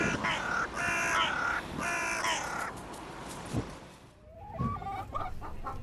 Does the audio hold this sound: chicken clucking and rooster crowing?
yes